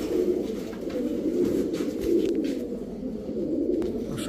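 Pakistani breed pigeons coo steadily up close, with soft, continuous throaty cooing that rolls on without a break and no talking.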